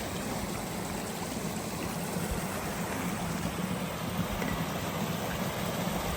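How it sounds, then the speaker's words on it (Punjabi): Snowmelt mountain stream on the road to Ladakh rushes steadily as a dense, even roar of flowing water, close and constant throughout with no voices. "ਉਹ ਜਿਹੜੀ ਬਰਫ਼ ਤੁਸੀਂ ਦੇਖਦੇ ਹੋ ਉੱਪਰੋਂ ਇਹ ਉਹੀ ਸਾਰੀ ਮਿਲਟ ਹੋ ਹੋ ਕੇ ਖੁਰ ਖੁਰ ਕੇ ਆ ਰਹੀ ਆ"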